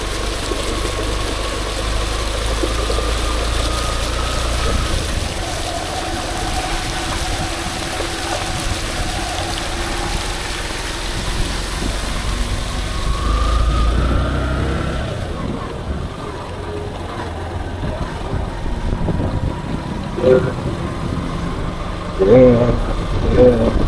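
A motorcycle engine idles and runs steadily while the bike pushes through deep floodwater, with water splashing and swishing around it. The engine hum continues for the whole stretch, and faint clicks and knocks come near the end.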